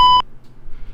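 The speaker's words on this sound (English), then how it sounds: "apologize for that annoying beep" A single steady electronic beep sounds in the cockpit of a Carenado Brasilia B120 in the Prepar3D flight simulator, loud and tonal for about a fifth of a second before cutting off to quiet hum.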